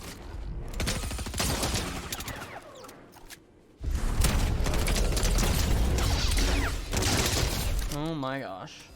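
A pump shotgun blast in Fortnite Zero Build comes amid busy close-range gunfire, with mechanical clatter, a brief lull, then more loud shots and effects.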